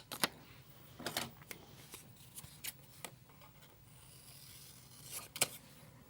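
Scissors snip a paper sticker in a few quiet, separate cuts with soft paper rustling between them, close and faint in a still room.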